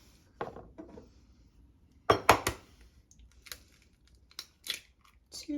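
Two eggs cracked into a bowl of creamed butter and sugar for cranberry orange muffin batter: sharp shell taps and clinks near the mic, a cluster of quick knocks, then lighter scattered clicks of shell and bowl.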